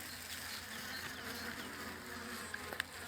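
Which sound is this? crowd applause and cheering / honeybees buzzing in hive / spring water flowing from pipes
honeybees buzzing in hive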